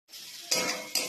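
Ground spice paste of cumin, coriander, garam masala and turmeric sizzling in hot oil while stirred in a pan for Bengali prawn curry, a steady close hiss rising in two bursts as the spoon scrapes and moves it.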